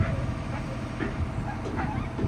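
A dog barks and yips in short bursts at a construction site where roof purlins and panels are being lifted off, the calls fairly close over steady background noise.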